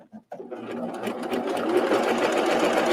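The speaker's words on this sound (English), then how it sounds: "so you just start stitching" A coverstitch sewing machine stitches a piece of fabric, starting after a brief pause and settling into a steady, close, fast-running whir that holds loud and even to the end.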